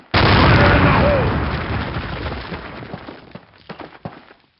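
A loud burst of explosives detonating against a cinder block wall in the video game Call of Duty: World at War, a sharp boom followed by a long rumbling decay with scattered debris pops and crackles trailing off.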